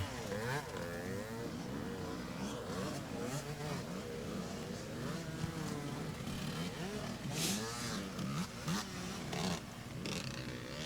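Motorcycles racing flat out on a slippery track at Mont-Laurier 2019, engines screaming continuously with rising and falling revs from several machines at a distance, under faint commentary.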